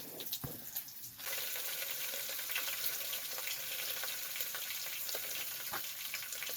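Grease sizzling hard in a pan while cooking inside an ice shack on a winter camping trip, a steady loud hiss that jumps up after a second and holds, with scattered pops and crackles of spattering fat.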